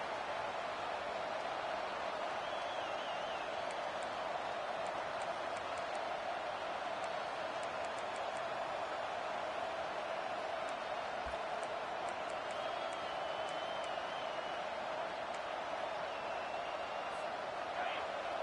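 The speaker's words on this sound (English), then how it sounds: "This crowd bringing an ear-splitting welcome to their visitors" Steady wash of stadium crowd roar from a football video game, continuous and loud for the whole stretch, with a few faint whistles and a play-by-play voice talking over it.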